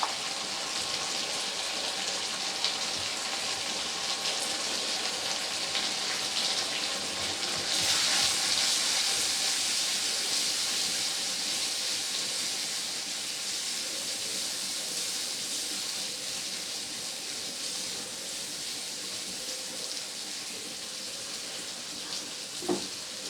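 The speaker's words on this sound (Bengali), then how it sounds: "ততক্ষণ পর্যন্ত ভেজে নেব যতক্ষণে না এই বাটা মশলাটার কাঁচা গন্ধটা চলে যাচ্ছে।" Ground spice paste with turmeric frying in a pan for Bengali bhoger khichuri, a steady close hiss and sizzle that runs unbroken throughout, with faint clinks and no talk.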